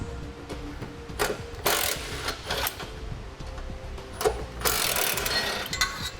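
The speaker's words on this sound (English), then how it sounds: "We're going to use a 14mm socket and get those removed." A 14mm socket wrench works loose bolts that pass through the frame of a 2018 Mitsubishi Outlander during a trailer hitch install. It gives quick ratcheting and metallic clicking bursts, close by, with faint shop background between them.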